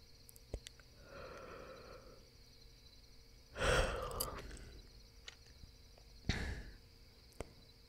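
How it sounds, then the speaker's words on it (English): A long, soft, breathy yawn and a few quieter breaths, heard up close and intimate in a cuddling-to-sleep roleplay, with no talking. "Another yawn."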